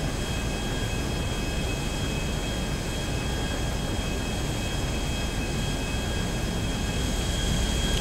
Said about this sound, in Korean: 와, 저 비행기 뜬다.